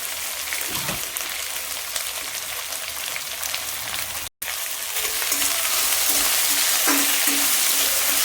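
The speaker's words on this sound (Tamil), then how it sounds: "சேர்த்து கொஞ்ச நேரம் நல்லா வதக்கி விட்டுக்கலாம்." Vegetables for kovakai poriyal sauté in a pan with a steady close sizzle and occasional stirring scrapes. After a momentary dropout the frying grows slightly louder.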